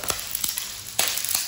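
Garlic sautéing in a pan for vegetarian fried rice noodles, with soft continuous sizzling and a few sharp scraping or crackling bursts from stirring, fairly quiet and close, no talking.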